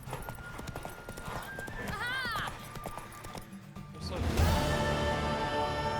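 Horse hooves clip-clop at a gallop in the Witcher 3 video game, with a clear whinnying neigh partway through, over game music and ambient sound; a voice speaks over it.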